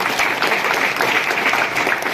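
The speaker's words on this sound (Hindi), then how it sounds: "रचना आरसे मैडम के लिए जोरदार ताली होना चाहिए" Audience at a business experience-sharing event breaks into loud, dense applause, a steady close wash of many hands clapping throughout with no one speaking over it.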